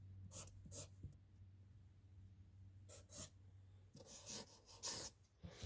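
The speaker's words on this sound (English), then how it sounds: "Let me write that down real quick so I can show you it." A pen or pencil writes by hand on paper, making several short scratchy bursts of strokes with pauses between them, close and fairly soft over a steady low hum.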